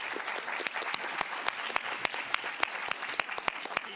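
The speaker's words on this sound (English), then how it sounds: "If we could just do one more round of applause for everybody out there." An audience at a workshop panel session applauds steadily, dense clapping with sharp individual claps standing out, moderately distant and without speech.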